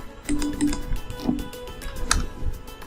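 Someone types code on a computer keyboard. The quick, uneven key clicks and taps are close to the mic, with a sharper keystroke near the end.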